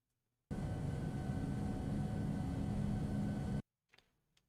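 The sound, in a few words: American Airlines Boeing 757 flyby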